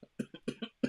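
A person coughs several times in quick succession, short dry bursts close and fairly quiet, with no talk.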